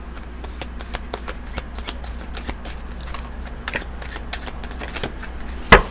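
Tarot cards being shuffled by hand before one is drawn, a close, steady run of soft riffling flicks and slaps across the whole span, ending in a brief louder rustle.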